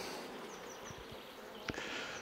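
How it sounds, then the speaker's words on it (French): Honeybees inside a hive make a dense, continuous buzzing hum close by, with a few soft knocks and a brief clatter of handling. "J'ai tout ce qu'il faut, des abeilles là dans la ruche."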